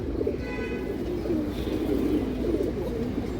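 Soft, low pigeon coos repeat close by against a steady background hum, with a faint higher chirp early on.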